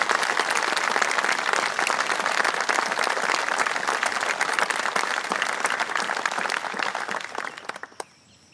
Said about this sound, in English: Can we have, please, a round of applause for these great men?